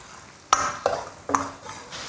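Sichuan bean paste and dried chili being stir-fried in a wok, with three sharp metallic spatula strikes against the wok over a faint sizzle, close by and without speech.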